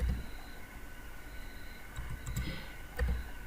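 Clicks and taps on a computer keyboard while editing text in Adobe Photoshop, a few sharp, close keystrokes around the middle and end of a quiet stretch with light room noise.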